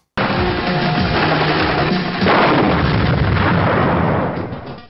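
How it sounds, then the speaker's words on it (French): A long, loud explosion in a 1987 action film, with a rumbling, crackling roar that sustains for several seconds, swelling midway before fading slightly at the end. "incroyable explosion."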